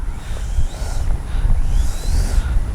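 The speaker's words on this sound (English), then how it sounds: "So if you can still hear the wind, gives you an idea of how windy it is." Heavy, continuous wind buffeting a microphone outdoors at a model jet airfield, with low rumbling gusts that rise and fall throughout and no voices.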